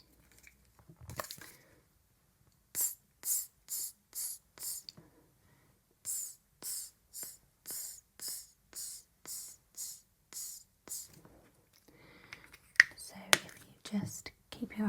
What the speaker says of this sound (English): Would you like some setting spray just to make sure it lasts all day?